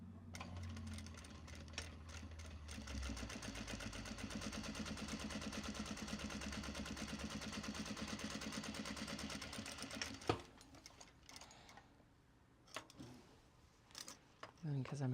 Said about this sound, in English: do 2 lines of stitching across the top here